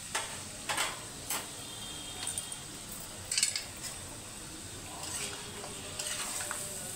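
Chicken and turmeric stirred in a pan, with soft, intermittent scraping strokes over a faint background sizzle and no talking.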